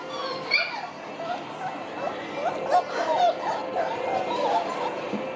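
Small beagle puppies at a breeding kennel yip and whimper in a busy, overlapping chorus of short high cries, close and fairly steady over a few seconds, while a person talks over them.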